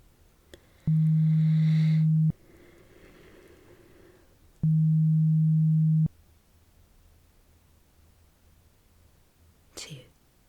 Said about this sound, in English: Now, please count how many beep sounds you can hear.